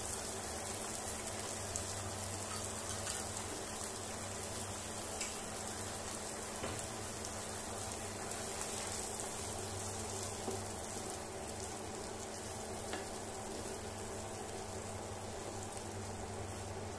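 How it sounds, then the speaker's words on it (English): Baked beans and scrambled egg are stir-fried in a pan, giving a steady, close, continuous sizzle that hisses evenly with faint irregular crackles and no talking. "Stir fry for a while."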